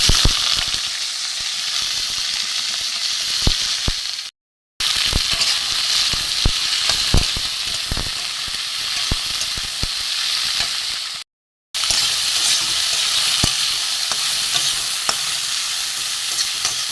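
Chopped vegetable stalks fry loudly in hot mustard oil, a constant close sizzle with frequent sharp stirring clacks, interrupted twice by brief moments of silence.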